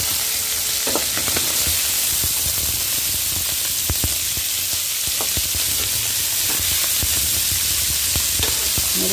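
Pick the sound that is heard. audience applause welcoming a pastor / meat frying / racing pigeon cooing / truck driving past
meat frying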